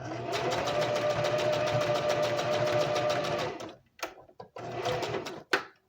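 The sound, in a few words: sewing machine stitching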